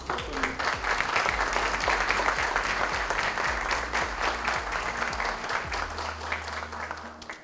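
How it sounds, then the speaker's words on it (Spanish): A conference audience at a science and journalism event applauds to welcome a speaker, sustained, even clapping throughout with a faint low hum running underneath. "Recibámoslo una vez más con un aplauso"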